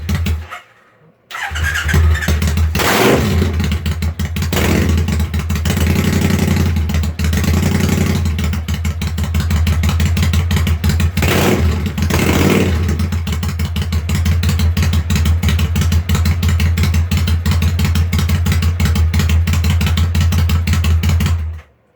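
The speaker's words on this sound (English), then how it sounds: "if we start the bike up again" A Triumph Bonneville America motorcycle engine cranks and catches, then settles into a steady, loud, throbbing idle that runs on without a break until it cuts off at the very end.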